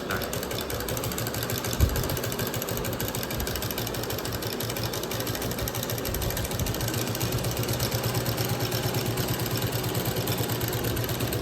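An industrial sewing machine stitching cloth runs in a fast, steady mechanical chatter, close and continuous, with a single soft knock near the start and no speech.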